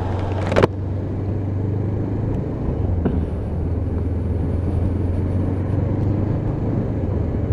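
Honda CB500 motorcycle accelerating up through the gears, a steady close engine drone with a brief sharp burst at the start and small shifts in pitch, continuous with no talk.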